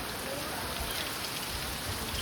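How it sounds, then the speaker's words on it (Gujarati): Steady, dense rainfall pours down continuously, a broad hissing wash with scattered drops pattering on surfaces nearby, no voices present. "તાકાતથી વરસાદ આવે છે."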